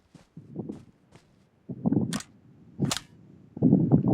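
Gunshots crack from behind the player in a sniper video game, a few sharp separate reports spread over several seconds, mixed with scuffling footsteps and movement noise.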